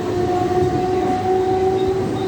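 Mumbai local train leaving Mahim Junction, a loud steady rolling roar with a sustained tonal whine from the motors, continuous and close, no voices.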